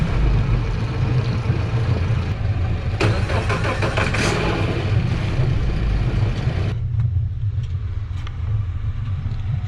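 Twin Suzuki DF200AP outboard motors on a Parker 2520 DV boat crank and catch, settling into a steady, fairly quiet idle with a brief burst of higher-pitched revving partway through.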